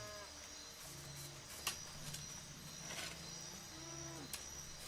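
Cows in the game Wasteland 2 moo in a few low, drawn-out calls, moderately close, over a quiet ambient background with faint scattered clicks.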